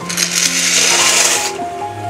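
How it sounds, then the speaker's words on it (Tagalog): A rushing clatter of dry macaroni poured into a pot of boiling water, loud and close, ending after about a second and a half with a faint tonal hum beneath. "Tubig, kumukulo na kasi lagyan natin ng pasta."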